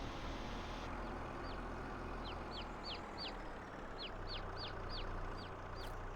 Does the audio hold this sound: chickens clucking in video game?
yes